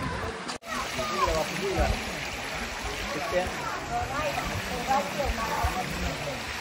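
Steady rushing of a river flowing below a waterfall at Marleshwar, a constant broadband wash with faint voices in the background.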